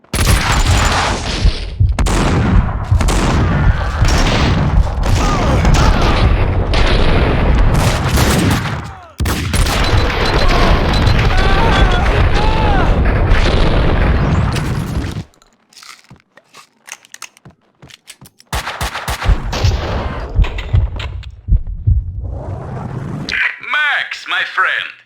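Gunfire from the video game Max Payne 2: dense, loud bursts of rapid shots and crunching impacts fill much of the scene, with voices talking over them and a sudden lull before the shooting resumes.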